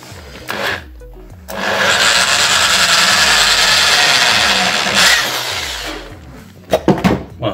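A power drill fitted with a 6.5 mm metal bit bores a hole, whirring up to a loud, sustained grinding run of about three and a half seconds before winding down, with brief handling knocks before and after.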